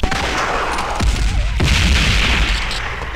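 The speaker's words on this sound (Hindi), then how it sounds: "I need covering fire" Covering gunfire in a war film battle scene on a border front: dense, continuous bursts of shots and heavy booming blasts, loud and close, running without pause across the whole stretch.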